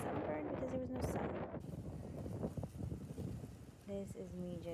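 Strong wind buffets the microphone in a heavy, continuous roar at Sam Lord's Castle hotel in Barbados, with voices talking briefly at the start and end.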